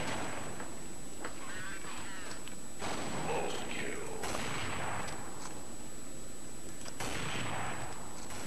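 Gunfire in the online shooter Counter-Strike, with sharp shots cracking at irregular intervals, some close and loud and others fainter, under a voice talking over the game.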